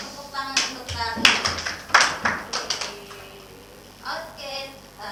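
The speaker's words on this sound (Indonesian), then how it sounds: "beri tepuk tangan untuk tadi" A small classroom group claps in brief scattered bursts, a few sharp hand claps rising and fading unevenly, with people talking over and between them.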